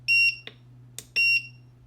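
Handheld 4-in-1 toxic and flammable gas monitor sounding its TWA time-weighted alarm: two pairs of loud, shrill electronic beeps with short chirps between, close up over a low steady hum.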